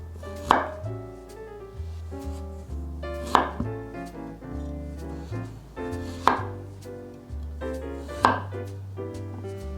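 A knife slices a carrot into flower-shaped rounds on a board, with four or five crisp, evenly spaced cuts standing out over steady background music.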